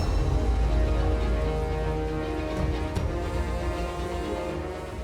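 Dense, steady rainfall pours without a break, loud and close, with sustained tones running underneath and no speech.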